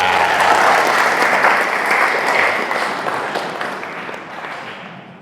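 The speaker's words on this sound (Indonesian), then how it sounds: "Tepuk tangan." An audience at a Muhammadiyah motivational talk breaks into loud, dense applause that starts strong and gradually fades over several seconds, with no voices over it.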